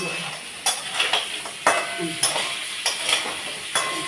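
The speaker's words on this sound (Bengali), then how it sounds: "দেখুন কাঁকড়াটা ভাজতে" Crab frying in a pan in a home kitchen, a continuous sizzle broken by several sharp clatters and scrapes of a utensil stirring against the pan, close and fairly loud.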